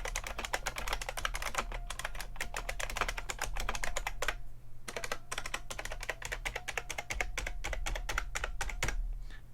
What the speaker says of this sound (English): the cacophony that is buckling springs